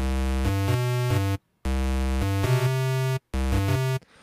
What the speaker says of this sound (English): One is just like kind of a square and saw wave.